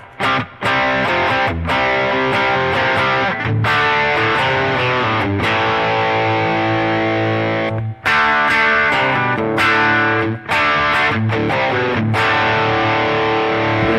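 Electric guitar runs through two distortion amps together on a Line 6 Helix, playing loud, saturated chords and riffs with a thick mid-heavy crunch and brief breaks between phrases, no voices.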